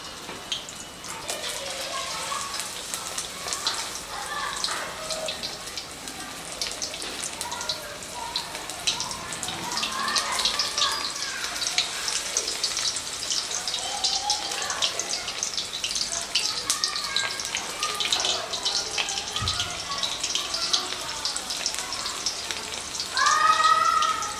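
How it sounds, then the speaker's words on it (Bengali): Chicken lollipop pieces frying in hot oil: a steady, moderately loud crackle and sizzle with fine bubbling pops running continuously, briefly intensifying at the end, with a voice talking faintly underneath. "পিস নিয়ে গরম তেলের মধ্যে এরকমভাবে একটুখানি ঘুরিয়ে দেব।"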